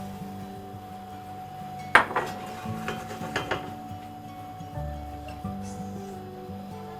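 Peaches go into a pan with lemon zest and vanilla for a peach tarte tatin. A sharp metallic clank is followed by several lighter clinks and scrapes of utensil against pan, close by over a low steady hum.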